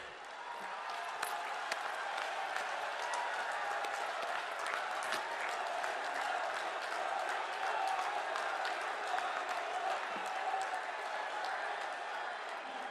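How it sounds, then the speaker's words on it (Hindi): Sustained applause from a large crowd welcoming the Prime Minister at a political rally in Moradabad, steady dense clapping filling the whole stretch at an even level. "अपने स्थान पर खड़े होकर प्रधानमंत्री जी की जोरदार तालियों के साथ स्वागत करें"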